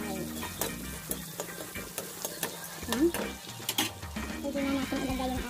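Bay leaves drop into a sizzling pan of chicken estopado, a steady frying sizzle with scattered clinks and stirring scrapes throughout, close and fairly loud.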